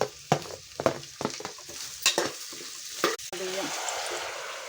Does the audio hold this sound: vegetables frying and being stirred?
yes